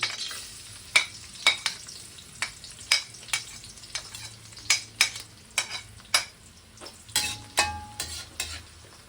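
Garlic frying in a heated wok (kawali), with a steady close sizzle and a series of sharp utensil clanks and scrapes at irregular intervals; no voices.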